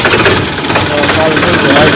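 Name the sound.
tractor engine starting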